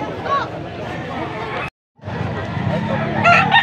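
A young stag gamecock, 16 to 18 months old, crows loudly at a cockfighting-bird market in Angeles City, Pampanga. Its crow rings out amid steady crowd babble and nearby talking, with a brief gap of silence in the middle.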